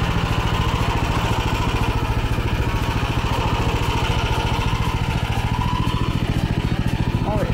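An MTZ walk-behind tractor engine running in a potato field, a loud steady rapid chugging throb held close throughout, with no voices.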